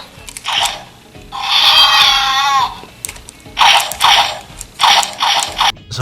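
Electronic scream from a 2015 Jurassic World toy dinosaur, a loud drawn-out synthetic shriek followed by several shorter screeches, with faint mechanical clicks from the toy in between.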